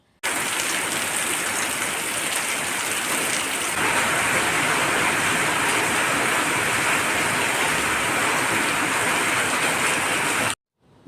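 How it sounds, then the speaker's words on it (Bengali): Heavy rain pours steadily outside a village house, a dense, even roar of falling water that holds at one level for about ten seconds before cutting off abruptly. "বাইরে মুষলধারায় বৃষ্টি পড়ছে দেখতেই পাচ্ছেন"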